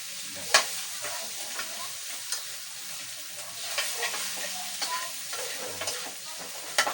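Egg frying with sliced bitter gourd in a pan sizzles steadily, with scattered stirring scrapes and small pops over a continuous crackling hiss.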